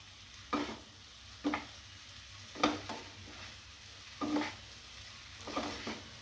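Vegetable hakka noodles being stirred in a pan, a series of five scraping, sizzling strokes spaced about a second apart, close and moderately loud over a steady low background hum.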